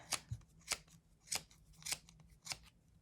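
Scissors snip through stretchy craft cord, five or six crisp, faint cuts at an even pace, close by and alone.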